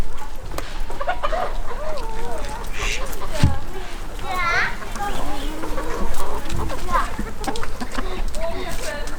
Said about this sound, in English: here are the other 2 Ancona large fowl hens